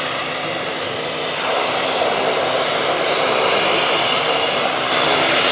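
An OV-10 Bronco, a collectible twin-propeller military aircraft, drones steadily in flight, a loud, constant engine roar that swells slightly toward the end.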